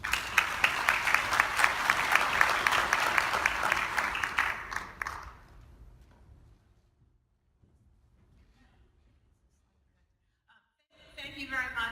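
A large conference crowd gives a speaker a long burst of dense applause lasting about five seconds, then it fades into near silence before she begins talking.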